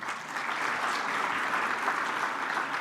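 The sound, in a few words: applause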